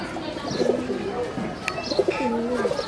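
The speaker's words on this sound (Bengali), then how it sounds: "এটা এরকম একটা কালদম কবুতর" Soft, low cooing of a Kaldam pigeon repeats in short phrases over a steady background hiss, with a faint higher chirp or two mixed in, on a rooftop.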